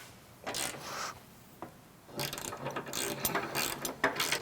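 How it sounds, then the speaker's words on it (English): A ratchet driving a 3/4 inch socket clicks in short bursts, then in a longer run of rapid pawl clicks, tightening bolts at a cross member while installing a diesel belly pan skid plate; close and fairly quiet, with no talk. "Now we'll take a 3/4 inch socket and tighten the bolts at the cross member."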